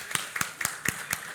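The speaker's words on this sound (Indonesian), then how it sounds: "kita beri tepuk tangan dulu" A handful of sharp, evenly spaced hand claps at a parliamentary talk show event, about five crisp strikes close and fairly quiet, with no other sound between them.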